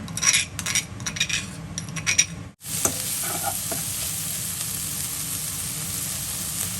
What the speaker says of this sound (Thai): ใส่น้ำมันค่ะ ใส่พริกกับกระเทียมลงไปนะคะ